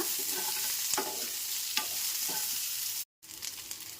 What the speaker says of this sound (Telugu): అలాగే ఒక రెండు మీడియం సైజ్ ఆనియన్స్ తీసుకున్నాను సో వాటిని కూడా కట్ చేసి ఇందులో వేసి ఈ విధంగా కొంచెం ఫ్రై చేసుకోవాలి